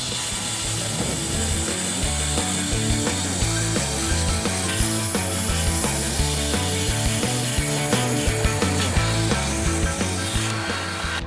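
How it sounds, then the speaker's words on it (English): A belt sander grinds and cleans the edges of metal barrel pieces in a workshop, a loud, steady abrasive whir running continuously with rough rubbing texture throughout and cutting off at the end. "let's take these over to the belt sander and get the edges all cleaned up"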